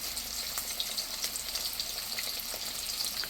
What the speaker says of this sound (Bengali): এখন আস্তে আস্তে ভেজে নেব